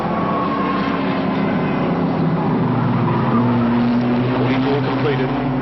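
1987 Winton 300 touring race cars roar past, including the leader's car, with a loud sustained engine drone and shifting pitch. A commentator talks over it throughout.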